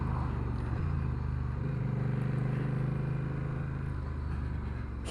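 A Honda CMX1100 Rebel DCT motorcycle rounds a roundabout, its engine a steady, close, low drone that holds an even pitch, with wind noise over it.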